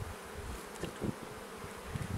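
Steady honeybee buzzing close by at an open hive, a dense droning hum with a few louder swells as bees move past.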